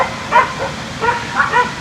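Dogs give a few short yipping barks and whines, some way off and intermittent, over a background of outdoor noise.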